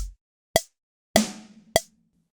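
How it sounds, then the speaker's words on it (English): Sparse, simple programmed MIDI drum beat alone, one kick and one snare per measure: a dry kick, a ringing snare hit, then another kick, evenly spaced and fairly loud. "So if we are doing 1 kick and 1 snare per"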